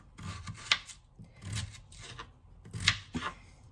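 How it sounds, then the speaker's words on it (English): Knife blade chopping potatoes into small cubes on a board, a few distinct cuts in two loose bursts, close and moderately loud with no talking. "Then the next portion is cutting the potatoes"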